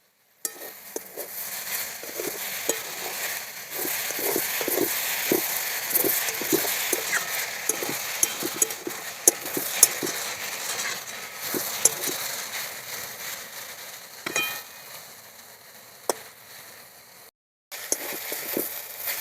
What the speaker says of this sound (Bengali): শাক ভাজা আমার হয়ে গেছে।